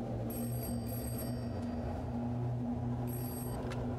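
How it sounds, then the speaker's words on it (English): A telephone rings in two short electronic trills about three seconds apart, faint and high-pitched over a steady low hum inside a room. "Oh, phone."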